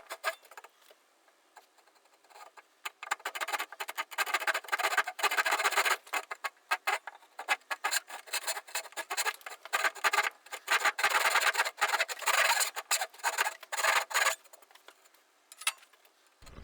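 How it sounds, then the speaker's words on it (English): A coping saw cuts a right-angled notch into the wooden top of a sawbench, giving repeated rasping strokes in an uneven rhythm, close and moderately loud, with short pauses between bursts and no talking. "Here I'm cutting out a notch in the top of the Sawbench, and this is to fit one of the legs."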